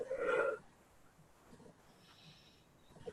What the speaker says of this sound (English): Oh, I got the yawns.